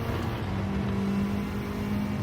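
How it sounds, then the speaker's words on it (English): Subaru car engine in a racing video game, a steady droning hum at an even pitch that holds for the whole stretch with little change, fairly loud and close, with no talking over it. "I think we chose one of the worst engines in this Subaru."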